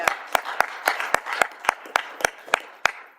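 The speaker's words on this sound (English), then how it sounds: "So here's a big cheer" A council meeting audience claps to celebrate the Hastings meatball festival win, a sparse run of about a dozen separate, evenly spaced handclaps over a few seconds, with faint murmuring beneath them.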